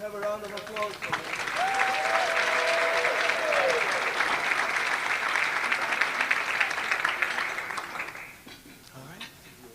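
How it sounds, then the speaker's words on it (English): A round of applause rises from the audience at a Cumberland County Legends ceremony, a full, steady clapping crowd that swells after a short tone, holds for several seconds, then fades as voices return. "Let's have a round of applause for him."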